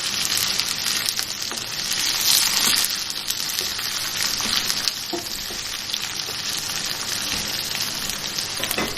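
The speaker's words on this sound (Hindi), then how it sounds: "इसको भूनेंगे प्याज के साथ हम।" Chicken frying with onions in a pan gives off a dense, loud, continuous sizzle with faint stirring scrapes, steady from start to finish and without speech.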